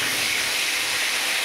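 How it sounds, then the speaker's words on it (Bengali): Bhetki fish frying in hot oil for a fish curry, a steady, loud, dense hiss and sizzle that fills the clip, with no talking over it. "এখানে মাছটা ভাজা হচ্ছে।"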